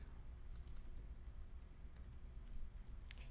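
Names are typed on a computer keyboard, producing faint, quick, scattered keystroke clicks in a quiet room.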